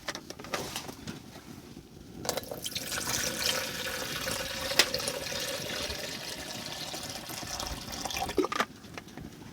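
Water pours into a Fire Maple camping pot near a hot tent, a steady splashing trickle that rises in level and runs for several seconds, close by, with wind in the background.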